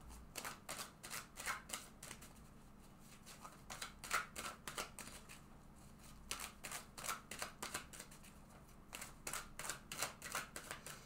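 Tarot cards are shuffled and drawn for a love reading, with bursts of quick, crisp riffling and flicking that come in several rounds broken by short pauses. The sound is quiet and close, with no voice.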